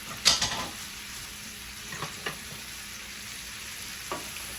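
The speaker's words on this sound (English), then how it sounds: "you're gonna go ahead and kind of toss your onions around to coat them with all of that deliciousness" Onions sizzle faintly in a pan as they caramelise, a soft continuous frying hiss broken by a few sharp stirring and tossing clatters near the start and later ones spaced apart.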